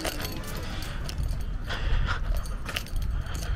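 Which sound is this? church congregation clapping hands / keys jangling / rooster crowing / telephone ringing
keys jangling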